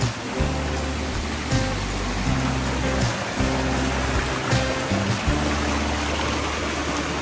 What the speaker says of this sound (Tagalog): Ilog naman talaga ito.